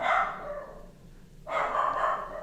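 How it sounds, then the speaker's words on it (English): A dog barks indoors in two sustained, loud bursts separated by a brief quieter pause, close to the listener, with no speech in between. "Sorry, my dog is barking."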